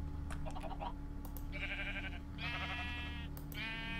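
Sheep in a modded Minecraft world bleat repeatedly, several wavering, nasal cries in quick succession over a steady low background hum, close and clear with no speech.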